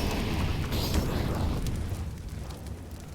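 A grenade detonates in Counter-Strike, a loud deep rumbling boom that decays over a few seconds, close and dominant with no talk over it.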